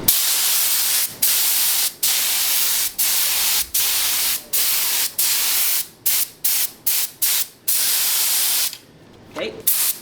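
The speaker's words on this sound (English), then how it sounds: "we're just gonna use our gun, and we're just gonna spray them like this" Repeated bursts of hissing spray from a spray gun applying carpet adhesive in a 1973 VW Beetle, short on-off pulses with brief gaps, quickening toward the end before a pause and a faint rustle.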